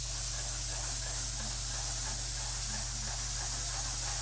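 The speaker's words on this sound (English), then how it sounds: "with the PSI increased now to 2400, which means it will spray a little bit more paint a little bit faster" Airless paint sprayer running at 2400 PSI, giving a steady, loud hiss of atomised paint that holds unbroken throughout, over a constant low motor hum.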